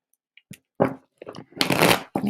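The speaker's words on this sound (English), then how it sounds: "Let me get 2 more shuffles in, Marianne." A deck of tarot cards is shuffled by hand in a few quick riffling bursts, close and crisp, with short pauses between the shuffles.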